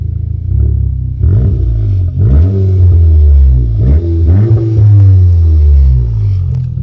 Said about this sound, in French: Est-ce que tu pourrais nous la démarrer? Bien sûr. Comme ça, je vous fais écouter le bruit.